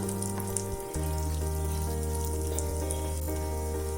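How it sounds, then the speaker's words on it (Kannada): Finely chopped cashews, about ten grams, fry steadily in ghee over a low flame, with a continuous soft crackling sizzle that swells after a brief pause and holds even and close throughout. "ಲೋ ಫ್ಲೇಮಲ್ಲೇ ಸ್ವಲ್ಪ ಹುರ್ಕೋಬೇಕು."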